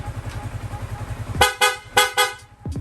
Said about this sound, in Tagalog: pa-activate naman ng loud horn